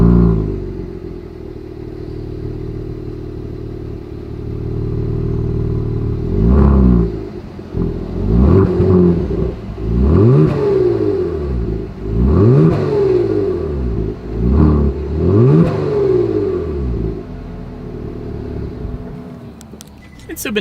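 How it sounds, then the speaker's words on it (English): The V6 exhaust of a 2021 Genesis G70 idles, then roars through a series of sharp throttle blips, each rising and falling, with the idle holding between blips before settling back down. "As always, here is that exhaust clip."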